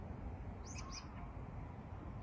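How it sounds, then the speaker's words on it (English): Two brief, high bird calls ring out close together over a steady, quiet background rumble. "It sounds like an animal, a bird or"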